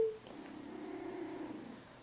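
A cat purrs softly and steadily at close range in a home sewing room, a low continuous rumble after a brief opening squeak, with no talking.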